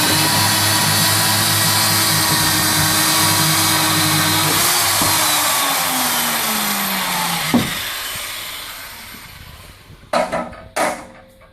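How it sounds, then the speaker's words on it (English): A Widos 4400 pipe welding machine's planer faces pipe ends with a loud, steady motorized whir and grinding hum that holds for several seconds, winds down, then ends with a few sharp clunks. "Start the planer by pressing the planer button and keeping our finger on it while it's planing."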